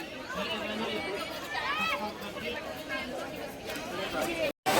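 Crowd of diners at a Ganpati festival meal in BARC colony, Anushakti Nagar, filling the space with constant overlapping conversation; nearby voices stand out against the general babble, which cuts out for a split second near the end.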